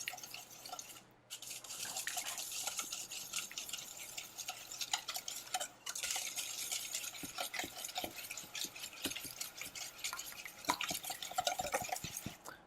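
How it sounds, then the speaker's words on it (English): A whisk beats the wet ingredients for carrot cake muffins in a bowl, making quiet, rapid clicking and scraping strokes that continue steadily with brief pauses. "Just whisk these up until it's homogeneous."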